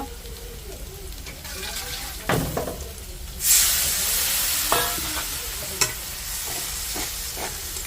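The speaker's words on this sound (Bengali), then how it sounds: "এখন সামান্য একটু জল দিয়ে দেব, দিয়ে কষাই নিব।" Chilli and turmeric powder paste for a kachki fish curry is stirred in a hot pan. A quiet sizzle with scraping strokes erupts into a loud hissing burst as a splash of water goes in, then settles to a steady simmering fry.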